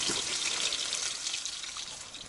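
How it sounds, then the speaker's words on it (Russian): Heavy rain pours steadily onto a tent set up beside a river in autumn, a dense, continuous hiss that fills the space and eases only slightly toward the end. "Вообще ливануло в палатке хорошо."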